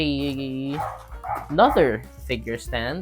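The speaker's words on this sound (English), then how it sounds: "pardon my dog" A dog barks and yips in several short bursts close by, mixed in with someone talking while he arranges action figures for photos.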